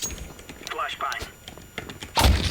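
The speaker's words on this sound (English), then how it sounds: "Deploying flashbang" A flashbang grenade goes off in a video game: a sharp, loud burst near the end after a couple of seconds of muffled thuds, movement and brief voice sounds.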